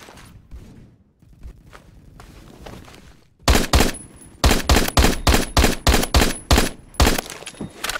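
MSG 90 rifle fire in the shooter game Phantom Forces: after quieter scattered sounds, a rapid run of about a dozen sharp, loud shots cracks in close succession, evenly spaced.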